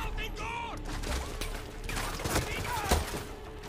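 Gunfire in the Far Cry 6 co-op campaign: a few sharp shots and short bursts crack over a constant bed of game ambience and mechanical noise, moderately loud and spread across a few seconds.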